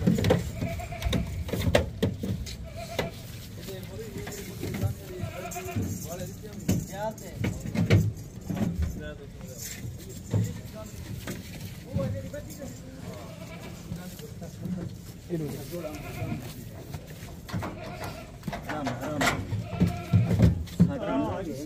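Gabban goats, some with kids, bleating repeatedly at a goat farm in Pakistan, with frequent calls near and at moderate distance, mixed with steady background chatter of people talking and occasional jangling.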